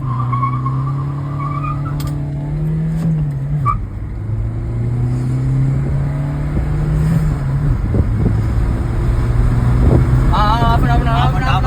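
Car accelerating hard from a standstill toward 100 km/h, a steady engine drone rising in pitch through gear changes, with tyre noise and people talking over it.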